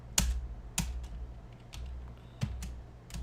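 Sparse key clicks on a computer keyboard at a Kali Linux terminal, about five or six sharp taps spread unevenly over a few seconds, close and fairly quiet over a low room hum, with no talking.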